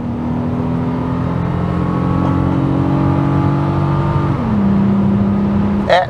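A Nissan Maxima V6 engine pulls hard under acceleration, its steady droning note rising then dropping at a gear change, loud and close from inside the car, ending with a brief higher whine.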